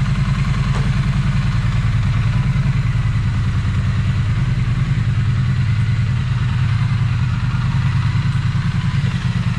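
Triumph Street Twin motorcycle engine idling in a workshop just after a service with new rear brake pads, battery and air filter, a steady, close, loud rumbling putter with an even rhythm throughout.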